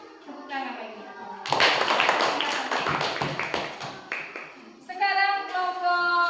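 Schoolchildren in a classroom clap their hands together in a burst of quick, busy claps lasting a few seconds, framed by children's singing or chanting voices before and after.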